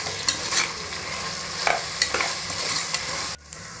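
Tomatoes sauté with mint and coriander in a pan for egg biryani, a soft continuous sizzle broken by scattered stirring scrapes and clinks, ending in a sudden drop to quieter frying.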